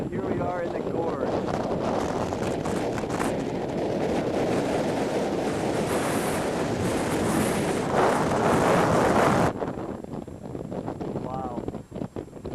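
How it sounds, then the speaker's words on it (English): Strong wind buffeting the microphone in a river gorge in a constant loud roar, with a voice partly buried underneath; the gusts ease slightly near the end. "it's very windy, but here we are in the gorge."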